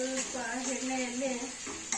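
Bottle gourd palya with green chillies fries in a little oil in a pan, giving a steady soft sizzle over two seconds beneath a voice.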